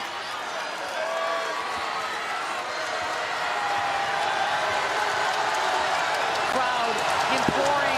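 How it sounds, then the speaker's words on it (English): Basketball arena crowd during a Gonzaga versus Utah game, a steady loud roar of voices urging the Gonzaga defense to get a stop, sustained throughout with a faint squeak or thump near the end. "Crowd imploring the Gonzaga defense for a stop"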